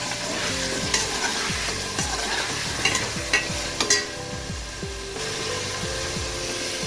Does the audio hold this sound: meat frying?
yes